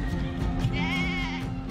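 A sheep kept for Eid sacrifice in a Sudanese neighborhood lets out a single wavering bleat, close and clear against a steady low background hum.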